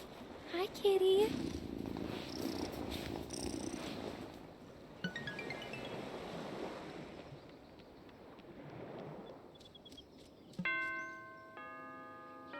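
A cat purrs in the farming-life video game Wylde Flowers, a low steady rumble under game music and a character's voice, with chiming musical notes rising near the end.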